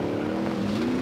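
A car drives in the Call of Duty Warzone video game, its steady engine hum droning at an even pitch for a brief moment, with no talk over it.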